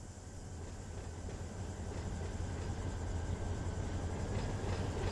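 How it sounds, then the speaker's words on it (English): An AI-controlled train rolls steadily across the Barstow hump yard in the Run 8 Train Simulator game, a continuous low rumble of wagons and rail noise that grows slightly louder over five seconds, with no talking. "So here's our AI train coming across"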